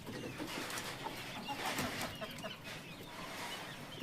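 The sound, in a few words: chickens clucking on a poultry farm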